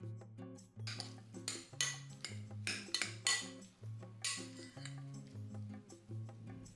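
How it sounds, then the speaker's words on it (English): Carrot batter for a carrot roulade being stirred in a bowl, soft scraping and light clinks of utensil on the dish in uneven strokes, close but quiet, with no talking. "Let's mix the carrot batter well."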